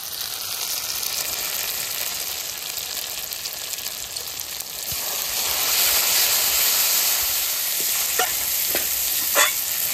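Spices fry in oil with salt and turmeric for a chicken kosha, a loud, even hissing sizzle close by that swells midway, with a few sharp spatula taps near the end.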